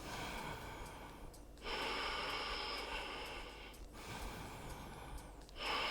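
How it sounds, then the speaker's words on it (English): Deep, forceful breaths during an intense power yoga class, two long broadband rushes of air with a short gap between them and a third beginning at the end, close and steady. "Two more deep breaths."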